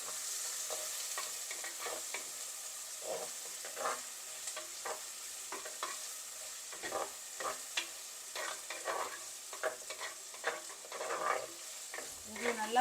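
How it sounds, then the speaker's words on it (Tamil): Onion, green chili, curry leaves and garlic sauté in a pan for crab masala, a soft continuous sizzle punctuated by frequent spatula scrapes and stirring clatters, close and fairly quiet. "வதங்கட்டும் வெங்காயம் பச்சை மிளகாய் கருவேப்பிலை பூண்டுலாம் நல்லா கொஞ்சம் வதங்கட்டும்"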